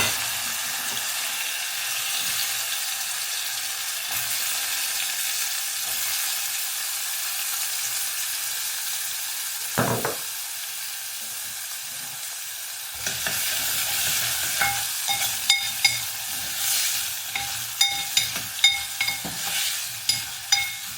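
Asafoetida and curry leaves sizzle in hot oil for tempering alongside green chilli, ginger, potatoes and black chickpeas, a steady close frying hiss with a sudden burst midway and spoon stirring clatter building toward the end.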